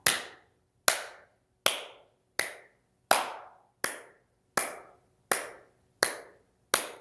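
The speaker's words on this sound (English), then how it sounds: "Let's clap 10 times." Ten sharp handclaps with a slow, even beat, each a crisp snap with a short room echo, and no voices between them.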